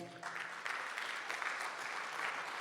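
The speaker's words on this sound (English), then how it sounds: "Give him a round of applause as well." An audience at a demoparty opening ceremony claps for a team member who runs the info desk, a dense, steady burst of many hands that carries on without break.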